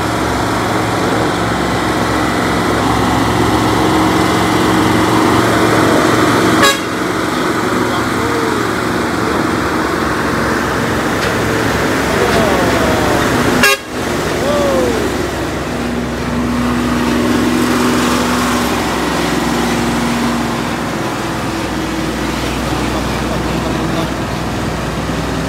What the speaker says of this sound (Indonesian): masuk lagi nih bosku, trailer Fuso Wheel Up